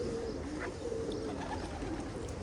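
Iraqi tumbler pigeons on a rooftop give soft, low cooing calls over a steady outdoor background hum, close and fairly faint.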